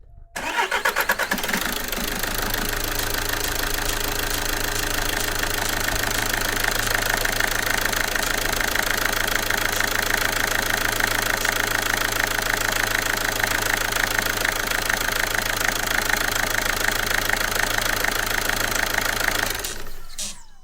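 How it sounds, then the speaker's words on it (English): A car engine with a defective, noisy valve runs steadily and loudly for about twenty seconds, a dense, even mechanical roar from start to finish with no talking. "this valve is making lots of noise"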